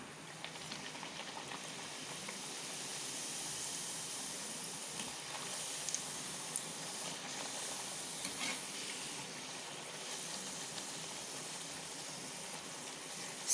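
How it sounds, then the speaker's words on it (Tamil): Banana sweet puris fry in hot oil, a steady close sizzle and bubbling hiss running unbroken throughout with no talk. "இப்போ வாங்க பூரி சுட்டுக்கலாம்."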